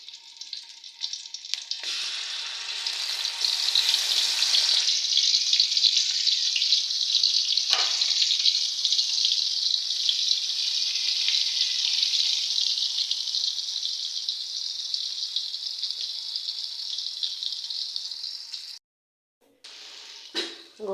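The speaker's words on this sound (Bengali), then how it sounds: "ওই কলাগুলো এখন ভাজবো। তো তার জন্য এই যে তেল দিয়ে এখন দিয়ে দিতেছি ভাজার জন্য।" Sliced green bananas fry in hot oil in a pan, a steady loud sizzle and crackle that holds for most of the stretch before breaking off, with a faint scrape or two near the end.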